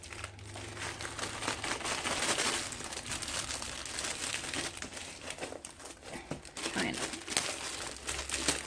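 A plastic sleeve on a diamond painting box crinkles and crackles up close in irregular bursts of rustling, handled continuously for several seconds.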